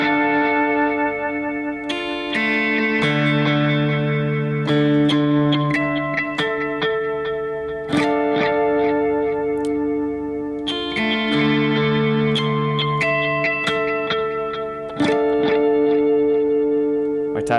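An electric guitar playing a chord part through effects, with shimmering, echoing arpeggiated notes and repeated chord stabs that ring out in a washy, delayed, continuous pattern.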